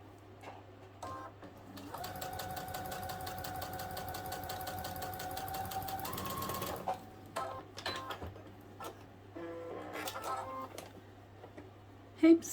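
A sewing machine stitching a narrow hem over edge tape runs fast and steady for about five seconds with a rapid mechanical whir and tick, then stops, followed by scattered handling sounds and faint rustles.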